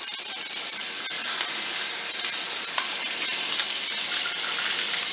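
Ice cubes in an ice tray crackle and hiss under a steady stream of running tap water, a dense, continuous sizzling wash with scattered sharp snaps, close and fairly loud throughout with no talking.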